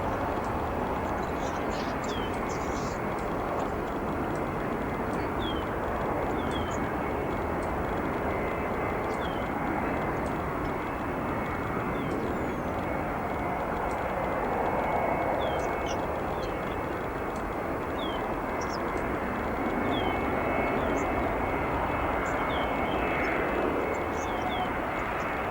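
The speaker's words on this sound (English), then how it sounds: "Next arriving another United 737." A United Boeing 737 arrives at O'Hare on runway 10 center, its engines a steady, broad roar that swells gently over nearly half a minute, with faint chirping birds above the noise.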